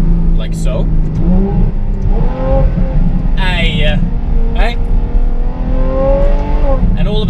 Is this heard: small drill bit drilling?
no